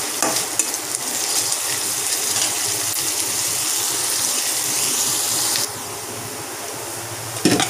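Onions frying in a pan while being stirred over high heat for a beef bhuna, a continuous loud sizzle with scraping stirs that drops slightly in level near the end, with no talk.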